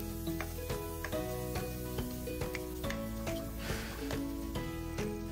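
Garlic and onion sauté in a pan with a continuous soft sizzle and occasional stirring scrapes, partly masked by steady background music.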